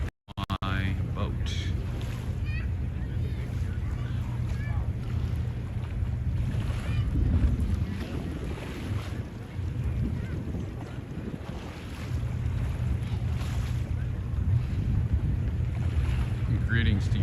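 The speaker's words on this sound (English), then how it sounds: "There's an FDNY boat right there." An FDNY fire department boat out on the water off Pier 40 in New York City, heard as a steady low engine rumble mixed with wind buffeting the microphone and water noise, continuous and fairly loud throughout.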